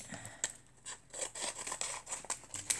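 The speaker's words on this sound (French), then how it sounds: "je recoupe un petit bout pour le coller" Scissors snip a small piece of paper up close, giving a series of short, crisp cuts with soft paper rustling in between.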